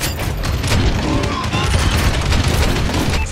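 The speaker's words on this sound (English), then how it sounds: "Friendly bombing run clearing the way." Explosions from a friendly bombing run in a multiplayer shooter video game roar as a dense, continuous barrage of loud blasts and gunfire-like cracks, with a busy, saturated rumble throughout.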